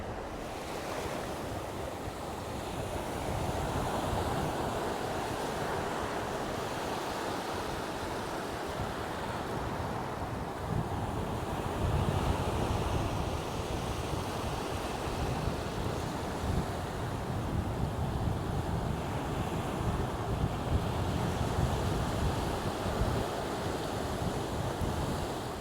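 Steady surf rolls and washes at Hua Hin Beach in Thailand, with wind buffeting the microphone throughout, a continuous broad roar of waves with gentle swells in intensity.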